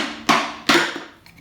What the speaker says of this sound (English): So now with the hammer, once you get this lined up and put that on there, just lightly tap along it.